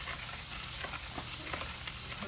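Garlic frying in a pan at medium heat and being stirred, a steady close sizzle and hiss with soft scraping pulses from the stirring, no voices.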